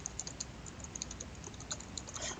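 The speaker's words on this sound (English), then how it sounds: "For example, you could type in the name" Quick, steady typing on a computer keyboard, a dense run of light key clicks close to the microphone with no pauses and no voices.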